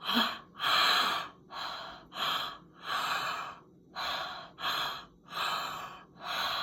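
Deep breathing during a breathwork exercise: a steady cycle of about nine long, forceful breaths, each a loud airy rush separated by short pauses, close to the microphone with no talking.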